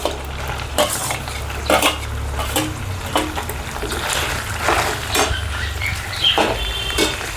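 Onions go into a pan of frying chicken liver, sizzling under a low steady hum. Repeated scraping strokes from a stirring spoon sound roughly once a second, close and fairly loud.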